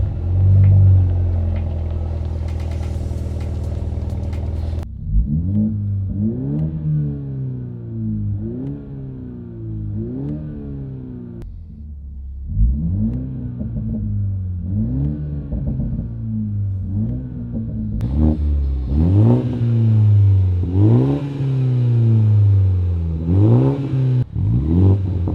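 A 2021 Toyota Supra 2.0 GR with a muffler-delete exhaust and 4.5-inch tips cranks over and fires, then repeatedly revs in sharp rising pulls, about a dozen blips in steady rhythm, loud and close.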